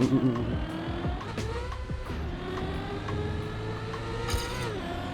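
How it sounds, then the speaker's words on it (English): A racing car engine in Trackmania drones steadily with shifting pitch, including a quick drop as a gear changes, while a voice talks over it. "there's a gear change happening right at that plastic part"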